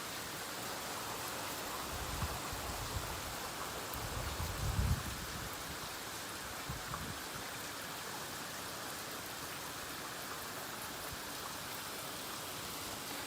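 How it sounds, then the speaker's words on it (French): Steady rain falls during a storm among poplar trees, a faint even hiss with a few soft low gusts or thumps early on, no voices. "Ça pleut, il pleut,"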